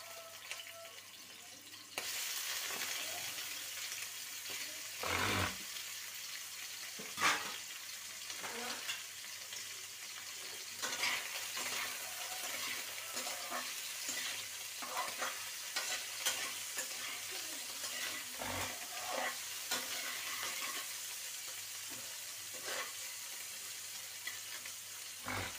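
Boiled chicken being stir-fried in a pan for homemade chicken noodles, a quiet steady sizzle with occasional scrapes and knocks of the utensil against the pan.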